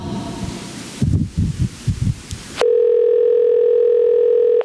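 Steady, loud telephone dial tone on a call to a metropolitan transit authority, starting abruptly after a few seconds of muffled, irregular thumps and holding unbroken to the end.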